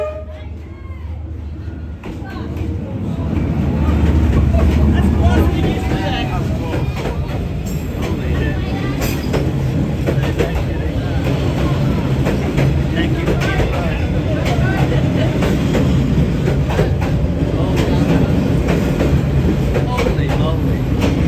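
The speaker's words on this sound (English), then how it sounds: "There's supposed to be a train at 11:20," A train rolls through Train Street in Hanoi, a loud, steady rumble with rattling and clacking of rail cars that builds after the first couple of seconds and continues for the full stretch, with street noise and voices mixed in.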